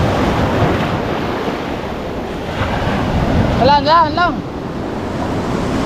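Ocean waves wash and roll steadily beneath heavy wind buffeting the microphone at the shore, with a short high whistling sound near the middle and a few brief voices speaking.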